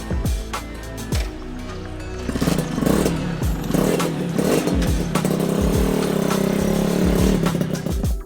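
A high-revving two-stroke motorcycle with a small 3.5-litre tank runs on a road trip in Thailand, its engine buzzing loud and close with rising and falling revs and some clatter from the ride.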